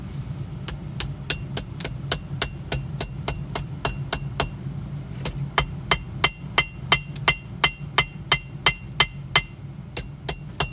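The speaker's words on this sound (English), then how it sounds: "And also, you get to practice your hammering a little bit." Hammer blows ring out on coil spring steel being forged into a chef knife, a steady run of sharp metallic strikes at a brisk, regular pace over a low, constant forge roar.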